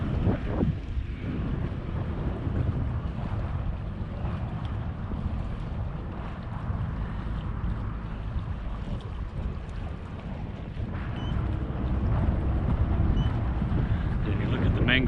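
Twin Epropulsion Navy6 electric outboards on a boat anchoring near mangroves revving, a continuous whir mixed into heavy wind noise and water wash, swelling louder toward the end.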